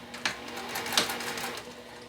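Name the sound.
sewing machine stitching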